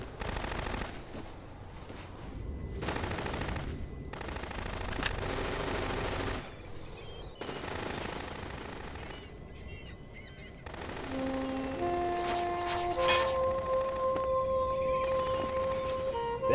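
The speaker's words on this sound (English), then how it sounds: "Who's doing the shooting? He's doing the shooting." Gunfire in the video game Metal Gear Solid 2, bursts of shots in separate blocks with brief pauses between them, followed by electronic tones and game effects near the end.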